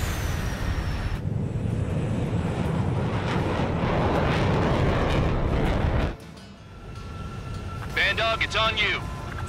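Fighter jet engines in Ace Combat 7 roar loudly and steadily for several seconds, then cut to a quieter hum, followed by a voice speaking over the background drone.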